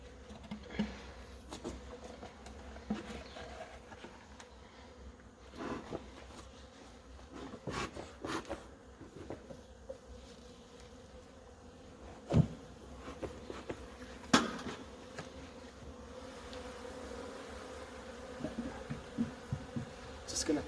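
Honey bees buzz faintly around an open hive in South Africa, a soft steady hum with occasional knocks and rubbing of hive frames and boxes being handled nearby.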